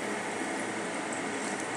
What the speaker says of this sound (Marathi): अशा प्रकारे मी एक एक करून यामध्ये तळून घेते।